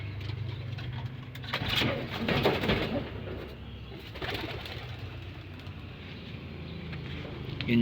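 Pigeons coo softly amid a low outdoor rumble, with a faint engine drone in the background and no clear talking.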